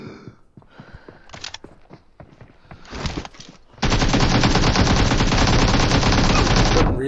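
Uzi fire in a video game: scattered single shots and short bursts give way to a long, loud, unbroken stream of rapid automatic gunfire.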